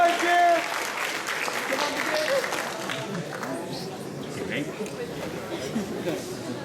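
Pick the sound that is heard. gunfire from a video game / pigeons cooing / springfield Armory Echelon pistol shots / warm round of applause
warm round of applause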